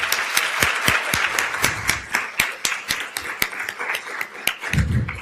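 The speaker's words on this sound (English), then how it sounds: "A huge round of applause." Conference audience applauding, sharp individual claps forming a steady, fairly close round of applause throughout, with a brief low thump near the end.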